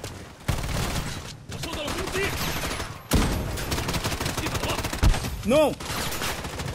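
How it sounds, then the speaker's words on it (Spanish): Sustained bursts of gunfire in the shooter Project Blood Strike, rattling in long volleys with brief gaps, close and fairly loud, with a short shouted exclamation near the end. "no tengo idea de dónde me disparan, creo que de fondo"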